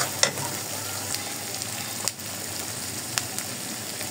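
Spices with chili powder, turmeric and salt frying in a pan for pangas fish kofta, a steady soft sizzle with a few sharp crackles and stirring clicks, close by, no voices.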